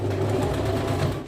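A sewing machine runs steadily, stitching blouse fabric along a quarter-inch margin, with a continuous, even motor hum and needle rhythm, close and fairly loud, lasting the whole short moment without talk.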